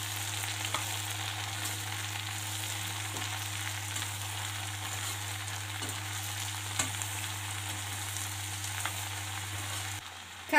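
Tomato and long beans stir-fry in a pan with a steady, moderate sizzle and occasional stirring scrapes, a low constant hum underneath, and a louder clatter at the very end.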